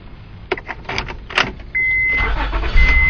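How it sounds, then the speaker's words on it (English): A 2003 Honda Pilot's ignition is worked with a key: a few sharp clicks and key rattles, then the engine cranks and catches into a loud, steady idle that runs to the end, with a thin electronic chime. "Car starts right up."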